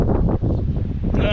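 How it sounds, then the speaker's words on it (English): Wind buffets a microphone outdoors on a city street, a dense, continuous low rumble that swells and dips for the whole short stretch. "Also, it's windy out here today."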